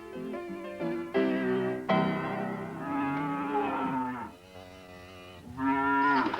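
Cattle in a field lowing loudly and close by, one drawn-out moo running into the next with no break across the stretch and no voices.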